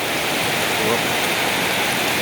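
Heavy rain pouring steadily in the countryside near green rice fields, a dense, unbroken broadband hiss that stays loud and even throughout.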